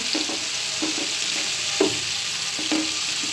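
Garlic paste fries in oil in a pan with a loud, steady sizzle broken by repeated scraping strokes of a spatula, close up.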